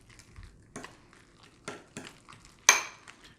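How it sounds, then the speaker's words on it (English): Oatmeal being stirred in a pot, giving soft scraping strokes and a few sharper clinks of the spoon against the pot, spaced irregularly and heard up close. "And just stir that up too."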